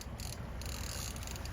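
A fishing rod reel being wound in aboard a boat on a mackerel trip, a faint steady ratcheting whir under soft wind and water noise.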